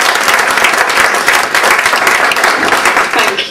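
Warm, dense applause from an audience welcoming the speaker Anthea, a loud continuous crackle of many hands clapping close by for several seconds.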